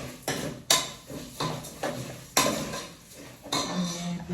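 Rice being stirred and toasted in a little oil in a pan, with a utensil scraping and clanking against the metal in repeated strokes about every second, close and fairly loud.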